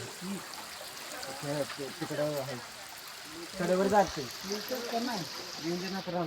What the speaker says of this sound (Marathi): तुम्ही येऊन इथे धबधबा बघू शकता. बघा पाणी पाहू शकता इथं.